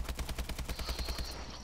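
Rapid, sustained automatic gunfire from a machine gun in the shooter game Call of Duty: Advanced Warfare, Exo Zombies mode, steady rhythmic bursts up close, loud, with a rising high whine layered in.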